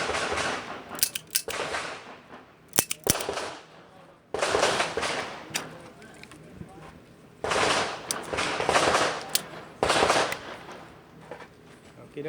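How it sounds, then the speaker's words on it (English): A Smith & Wesson 929 revolver and other shots fire at a pistol practice match outdoors, heard as several sharp, loud reports in clustered bursts with quieter gaps between them, and voices are briefly heard. "I'm gonna shoot these two and run all the way back."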